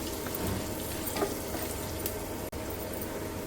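Taro pieces fry in a pan, giving a soft, even hiss of oil with a few faint crackles and one brief dropout.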